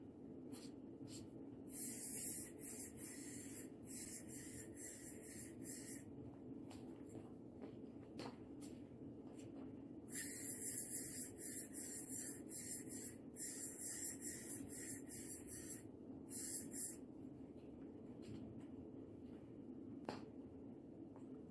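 Forcefield shoe protector spray hissing from an aerosol can onto shoes over concrete, in two long bursts separated by pauses and shorter puffs, close and steady.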